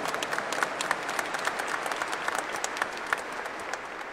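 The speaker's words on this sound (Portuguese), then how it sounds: "com a salva de palmas calorosa" Congregation at a Catholic Mass in the Aparecida shrine giving warm, steady applause, a continuous wash of many hands clapping evenly throughout.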